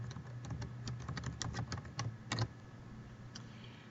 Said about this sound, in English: I'm ready to start typing in here